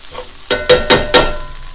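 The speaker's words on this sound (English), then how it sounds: "Give this a nice little stir fry." Kimchi fried rice being stir-fried in a pan over medium heat, a spoon scraping and tossing it in four distinct bursts against a low sizzle.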